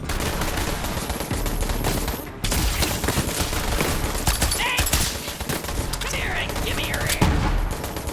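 Rapid gunfire from Borderlands 3 weapons, including a secondary fire mode, with dense bursts of shots and booms continuing loudly throughout, with a brief dip partway through.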